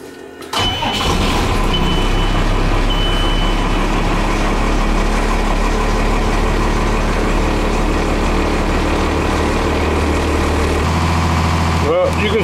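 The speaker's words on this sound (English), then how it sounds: "I'm just gonna crank it up and race the engine" A parked bus, a conversion project fitted with Hushmat sound deadening, has its engine started and then raced, a loud steady diesel roar with rising revs filling the whole stretch before dropping back near the end.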